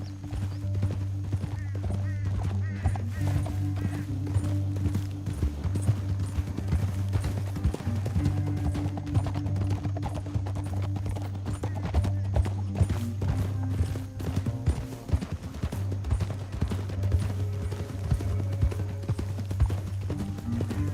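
Horse hooves clip-clop steadily as a rider travels through a canyon in Red Dead Redemption 2, a continuous rhythmic trot under a low ambient rumble that lasts the whole stretch.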